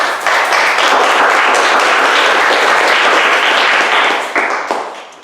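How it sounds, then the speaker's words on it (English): Loud, dense audience applause fills a church-style gathering, steady for about four seconds before tapering off at the end. "Thank you for that applause"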